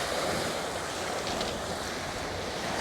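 Steady wind blowing across a hot beach where schoolie bass are fished, with surf washing continuously underneath, a dense even roar and no voices.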